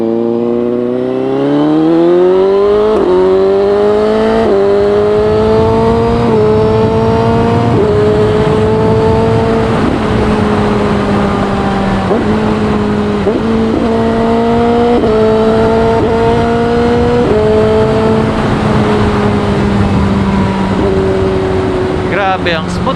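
CFMOTO 750SRS sport bike with a quick shifter pulling hard in second gear, engine note climbing steadily and loudly with several quick shifts breaking the rising pitch, close to the rider.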